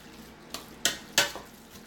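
Taco spaghetti meat cooks in a pan while a utensil stirs and scrapes it, giving three or four sharp, close clinks over a soft, steady sizzle with no talking.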